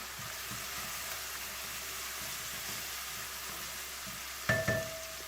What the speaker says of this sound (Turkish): Bir çay kaşığı da toz kırmızı biber ilave edip onu da kavuralım şöyle.